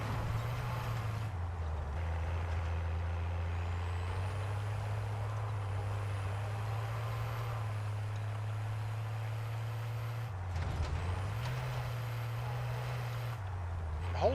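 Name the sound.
truck driving in the video game Call of Duty Warzone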